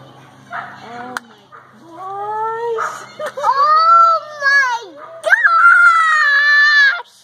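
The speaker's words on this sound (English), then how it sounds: "listen to the dog, guys. Going crazy." An excited dog cries out during a 2017 total solar eclipse, giving drawn-out, rising and falling howling yelps. The calls are close and fairly loud, with a brief voice near the start.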